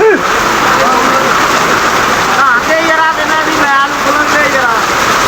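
Heavy storm rain pours down in Naran, a dense, constant hiss of water that stays loud throughout, with faint voices or tonal sounds rising over it midway.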